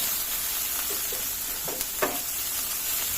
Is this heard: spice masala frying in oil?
yes